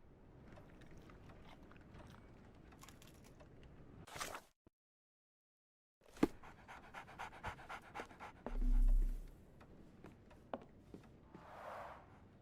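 Barnes's dog in the Sherlock Holmes: The Awakened video game pants in quick, close, breathy bursts, broken by a brief total silence midway before the panting resumes.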